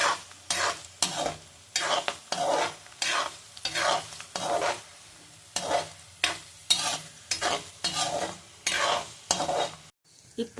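Spices for pongal sizzle in hot oil as they are tempered, with a spoon scraping the pan in a steady, repeated rhythm of short stirring strokes, close and clear with no talking.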